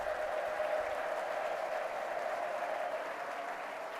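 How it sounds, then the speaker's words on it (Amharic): A church congregation applauds in praise during a sermon, with steady, fairly faint clapping under a continuous tone, sustained evenly throughout. "የለልታ ጭብጨባ ምስጋና አምጡ ለጌታ"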